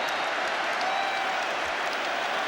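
Continuous applause from a large rugby crowd at the 1999 World Cup semi-final, New Zealand against France, a thick, even wash of clapping and cheering with no break.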